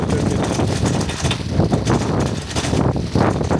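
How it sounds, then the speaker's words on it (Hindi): Cold wind blowing outdoors, a steady rough rushing and buffeting against the microphone that continues throughout with gusty swells. "हवा चल रही है ठंडी।"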